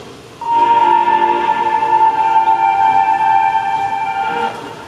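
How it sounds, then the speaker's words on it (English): Mellotron Rubicon Part 1 strings and flute preset playing one sustained lead note, a bright steady tone held for about four seconds with a soft reedy edge. "No, I'm using the Rubicon Part 1 strings and flute"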